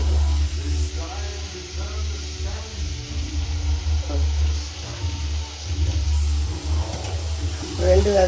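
Sweet potato with curry leaves sautés in a pan, a soft, steady sizzle running beneath someone speaking throughout, with a constant low hum in the background.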